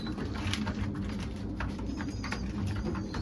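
Homing pigeons, males among them, coo softly in a loft over a steady low background hum, with faint scattered pecking and shuffling sounds.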